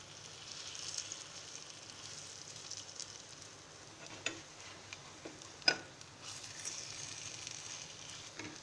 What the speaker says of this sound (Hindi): लो फ्लेम पे हम 2 से 3 मिनट तक इन्हें फ्राई कर लेंगे।